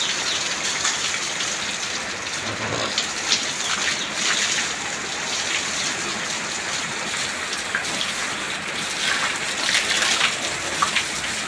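Water splashes and patters steadily while a dairy cow's legs and udder are washed on a farm, a close, continuous rain-like spatter with a few louder gushes.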